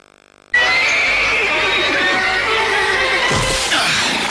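After a brief quiet moment, a horse lets out a long, loud whinny that carries for several seconds, with faint background noise.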